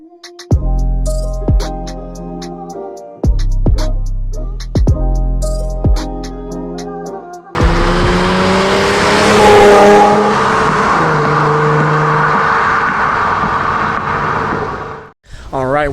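An Infiniti G37/Q60 with a custom catback exhaust is run on a dyno at Pure Fabrication in Panama City, Florida. Several loud, sharp rev blips come first, then one long, sustained pull climbing through the revs before cutting off.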